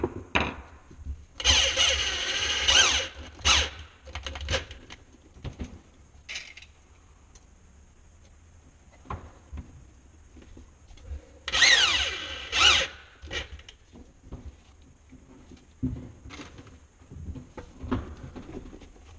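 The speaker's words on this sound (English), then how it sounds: "So I'm gonna screw my heel to the shoe" A power drill drives screws to fix a heel onto a handmade shoe, with two loud whirring bursts near the start and middle, plus scattered clicks and handling noises between them.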